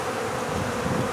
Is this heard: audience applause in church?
no